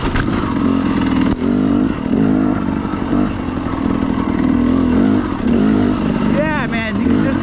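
KTM 300XC-W carbureted two-stroke dirt bike on a trail line, its engine buzzing loud and close as it pulls from low revs and accelerates in repeated surges, with a brief higher rev near the end.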